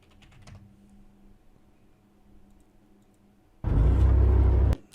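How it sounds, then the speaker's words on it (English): Quick burst of typing on a computer keyboard, loud and close, following a quiet stretch with faint background noise. "I will literally type this in."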